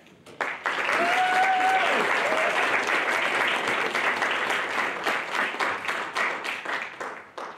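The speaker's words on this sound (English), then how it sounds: "let's give one last round of applause to all entries this year" A student film festival audience bursts into full, sustained applause that swells quickly, holds steady for several seconds, then thins into individual claps as it tapers off.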